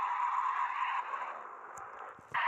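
A car drifts and skids in a video game, producing a sustained screeching, rushing tone that fades slightly midway, then a brief click and a fresh burst of skid noise at the end.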